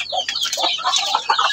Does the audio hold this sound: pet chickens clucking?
yes